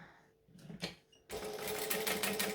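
A sewing machine bastes the flap of a fabric pouch, starting after a few soft handling noises and then running in a steady, fast, close stitching rhythm.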